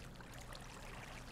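Water placed in Minecraft, running as a soft, steady trickling stream, faint and continuous with no other sounds.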